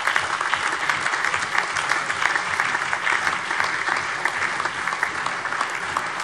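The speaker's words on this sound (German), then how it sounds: "Die haben alle einen dicken Applaus verdient." Hearty applause rings through a parliament plenary session, a steady dense clatter of many hands that holds at an even level for several seconds without speech.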